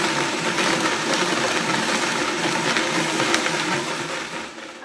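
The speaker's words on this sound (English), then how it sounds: "I blended it on high for quite a few seconds so that it would come out pretty smooth" A high-powered blender runs on high, whirring steadily through frozen bananas for a smooth nice cream, a dense continuous motor roar that stays loud and even before easing slightly at the end.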